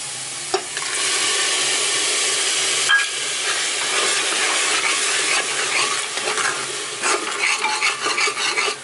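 Tomatoes added to a hot tadka and stirred for a potato curry, a loud continuous sizzle and frying hiss with a spoon scraping the pan and occasional clinks.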